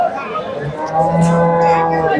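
A local cow at a cattle market moos loud and close, a long drawn-out low call that swells in the second half, with faint market noise in the background.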